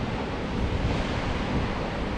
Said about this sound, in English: Look at these waves folks